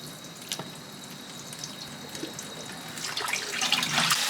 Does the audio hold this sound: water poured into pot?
yes